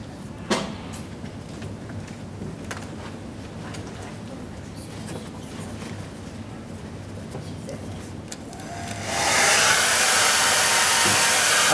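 A hair dryer switches on partway through and blows with a steady, loud broadband roar after quieter room sounds.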